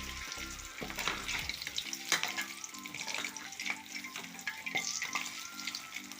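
Drumstick leaf vadas fry in hot oil with a busy, crackling bubble that stays fairly even throughout and is joined by occasional light clinks and scrapes.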